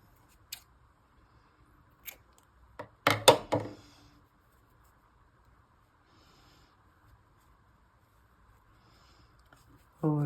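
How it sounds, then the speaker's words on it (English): Scissors snip through crochet yarn after finishing a small heart-shaped bookmark, giving a quick cluster of close, crisp cuts amid a quiet room with a few faint taps. "now I'm gonna just cut the yarn and tie it up at the end."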